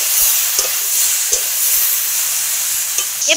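Pumpkin, Malabar spinach and potato with grated ginger sautéing in a pan, giving a steady close sizzle and hiss with a few soft stirring scrapes and no talking.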